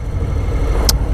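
A Harley-Davidson FLSL 1740 Slim motorcycle with a big torquey engine runs steadily in second gear, a loud continuous low rumble dominating throughout, with a brief bright burst of noise near the end.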